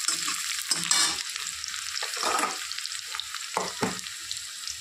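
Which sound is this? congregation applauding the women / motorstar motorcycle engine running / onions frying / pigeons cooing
onions frying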